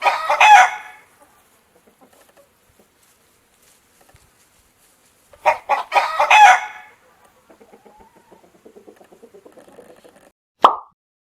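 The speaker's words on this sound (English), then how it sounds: "chicken," A chicken clucks in a quick, soft run and a rooster crows in loud bursts, with buzzing insect sounds near the start and end, typical of a farmyard.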